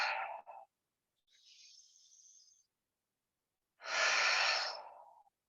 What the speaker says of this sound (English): Exhale through center.